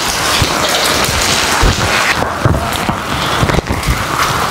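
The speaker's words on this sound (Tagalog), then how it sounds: "Lakas pa rin ng ulan." Heavy rain pours down steadily, a dense, loud wash of drops beating on surfaces with scattered heavier splatters and no voices.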